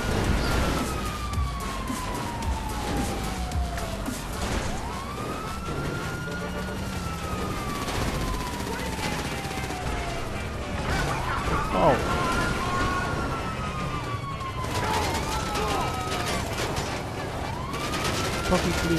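Video game police sirens wail continuously, their rising and falling tones overlapping amid dense noise, with people talking over the chaos.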